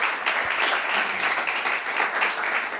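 Audience applause at a startup pitch competition, a dense, steady wash of many hands clapping that holds evenly through the moment, loud and close, with no talk over it.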